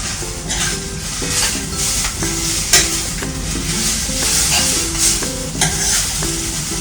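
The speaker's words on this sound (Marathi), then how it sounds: "त्याच्यामध्ये ही मी कोथिंबीर टाकून घेते" Chilli kharda with coriander stirred in a hot pan, a continuous loud sizzle with rhythmic spoon scrapes and metallic knocks against the pan throughout.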